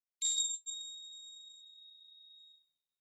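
A single bell strike rings out clearly, a bright clean ding whose pure tone sustains and slowly fades over about two seconds in otherwise silent surroundings.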